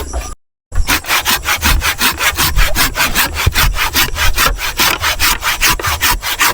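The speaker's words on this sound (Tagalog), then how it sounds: "Hindi biro yung paglalagari pag ganito nakalaki." Hand saw cutting through a large piece of wood for a chicken coop, steady rapid back-and-forth strokes, loud and close, continuing without pause after a brief gap at the start.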